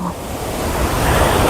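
Sea waves roll in at Marina Beach, Chennai, a loud, close surf wash that swells toward the end, with wind buffeting the microphone.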